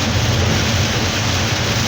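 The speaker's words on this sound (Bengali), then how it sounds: "রাস্তার মধ্যে প্রচণ্ড পানি এবং একদম পুরো মুষলধারে বৃষ্টি" Dense, loud roar of torrential rain over a flooded road during a storm, heard from a Scania bus, with a low rumbling undertone, continuous and unbroken throughout.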